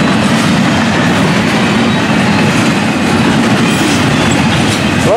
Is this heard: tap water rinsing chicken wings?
no